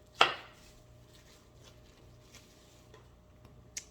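A single sharp cut through empanada dough on a floured work surface, one crisp chop near the start followed by quiet handling and a few faint taps, with no talking.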